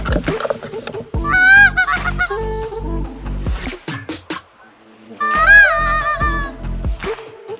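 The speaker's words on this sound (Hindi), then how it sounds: "बड़े मजे से डक्स आ रहे हैं" Wild geese honk loudly as they fly low overhead, in two bursts of overlapping calls with a quieter gap between them.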